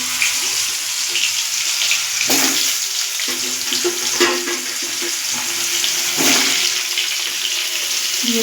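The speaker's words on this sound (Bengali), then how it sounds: "আলুগুলো ডুমডুম করে কেটে ভালো করে ধুয়ে জল ঝরিয়ে নিই" Diced potatoes are rinsed under a running kitchen tap, with a continuous rushing splash of water and a few brief louder surges, and no talking.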